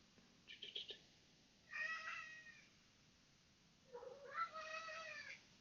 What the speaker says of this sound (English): I don't know if you can hear the cat.